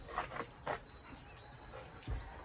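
A dog indoors gives soft whimpers and short breathy sounds in brief bursts, faint and close, with no one speaking.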